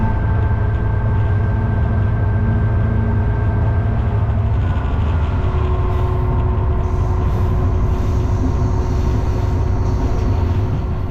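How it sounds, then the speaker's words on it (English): Class 59 freight locomotive heard from the cab, a steady loud diesel drone with rumbling rail noise and a few tonal hums, continuous and close without any talk. "Our train joins the Down Atlantic lines here at Factory Junction."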